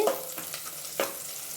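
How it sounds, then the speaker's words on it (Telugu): Ingredients frying in oil for pulao, a steady close sizzle with a couple of sharp spoon scrapes against the pan, brief and moderately quiet, no talking. "వేపుకుందాం వేగుతా ఉన్నాయి ఇంకొంతసేపు వేగనింది"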